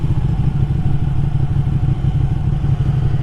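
Ducati Panigale 959 sport bike being ridden, with a loud, steady engine drone and rumble heard close up from the rider's position and no talking.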